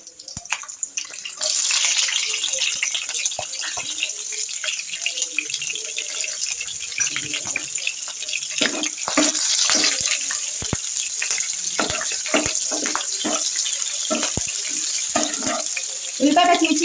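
Chopped onion and green chillies frying in hot oil in a pan for a capsicum curry, a steady loud sizzle with crackles and pops throughout, heard up close.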